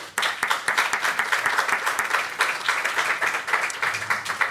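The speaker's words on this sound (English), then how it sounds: "a nice round of applause for our panelists" An audience claps steadily for a few seconds for panelists at a conference panel, a dense, even round of applause from a crowd.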